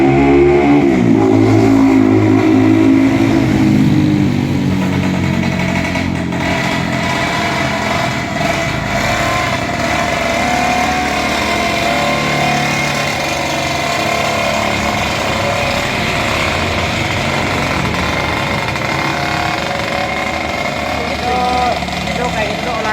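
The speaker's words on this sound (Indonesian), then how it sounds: "motor antik" An antique motorcycle engine runs with a steady, buzzing, high-pitched drone that stays loud and close throughout, with brief louder surges near the start.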